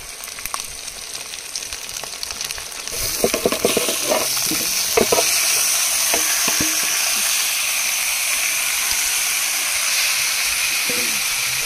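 Marinated goat meat goes into a hot pan over a wood fire, first a few clatters and then a sudden loud burst of sizzling and hissing that settles into a steady, close frying roar with occasional stirring knocks.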